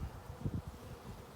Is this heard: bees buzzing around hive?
yes